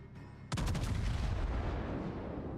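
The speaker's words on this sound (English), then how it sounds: "He switched to HE and fired his main battery" A warship's main battery fires high-explosive shells in the naval combat game World of Warships: one sudden, loud, booming salvo that rolls on in a heavy, sustained rumble with no voices.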